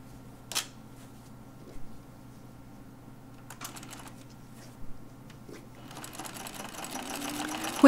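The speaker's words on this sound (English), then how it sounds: "I'm sewing from the underarm to the top of the shoulder." A sewing machine stitches slowly around the curved armhole of a fabric torso sloper, starting in short, halting bursts and then running in a faster continuous whir toward the end.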